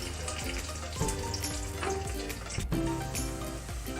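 Two medium-size chopped onions frying in oil in a pan for keema do pyaza, a steady busy sizzle with occasional clatter of a utensil, close by and fairly loud throughout, with no talking.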